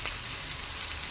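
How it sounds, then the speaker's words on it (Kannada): Ginger-garlic paste, beans and carrots sizzle in a hot pan for vegetable fried rice, a brief, steady crackling hiss of frying with no voices. "ಇದು ಇವಾಗ ನೀಟಾಗಿ ಫ್ರೈ ಮಾಡ್ಕೊಬೇಕು"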